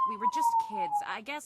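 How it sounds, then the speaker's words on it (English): A steady high whining tone like a distant siren runs behind close conversational speech, holding nearly level for about a second under the voices. "Sorry about the siren."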